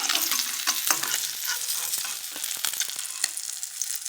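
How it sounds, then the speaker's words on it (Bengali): Fish pieces frying in hot oil for a Bengali fish-and-rice lunch give a steady, close hiss. Sharper crackles and the scrape of a spatula break through the hiss now and then. "আচ্ছা এই দেখো আমার সবগুলো মাছ আমি ভেজে তুলে নিলাম"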